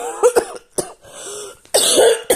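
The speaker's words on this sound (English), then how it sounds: "I went 17 minutes before I started coughing up a lung" Repeated harsh coughing and throat clearing from a woman indoors, close and loud, in two bursts separated by a brief quieter pause.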